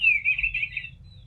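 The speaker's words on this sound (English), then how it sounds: "wait for the bird clock to be done." A bright electronic birdsong melody warbles for about a second over a low hum, then stops, like a chiming clock playing a recorded bird call.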